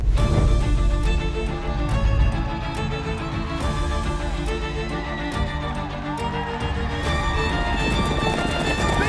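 Racehorses galloping in the Pegasus World Cup at Gulfstream Park, a steady rush of hoofbeats under a busy, crowded background that stays loud for the whole stretch.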